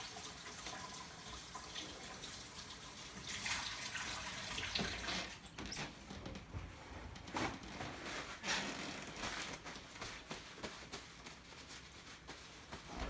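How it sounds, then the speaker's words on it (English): Tap water runs steadily into a kitchen sink while hands are washed after seasoning a pot roast, a soft continuous splashing with small shifts in flow, faint and close. "Again, I'll wash my hands."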